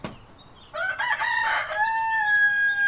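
A rooster near a backyard chicken coop gives one full cock-a-doodle-doo, loud and close, rising into a long, drawn-out final note.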